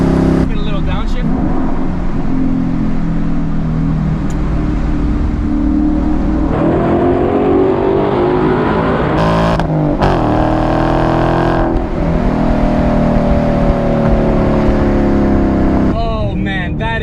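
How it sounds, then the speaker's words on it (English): Ford Mustang GT S550 with a naturally aspirated 5-liter V8, its exhaust rumbling loud and steady through a downshift and repeated acceleration pulls, the engine note rising and falling, with someone talking over it. "That beautiful exhaust note is coming from a naturally aspirated 5-liter V8 engine"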